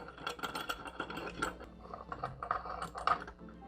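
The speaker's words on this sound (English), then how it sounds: "Take my C-clamp, loosen it just enough, clamp it right on the corner and tighten." A C-clamp is tightened onto the corner of a table, giving close, quiet, irregular clicking and creaking as the screw turns in short bursts.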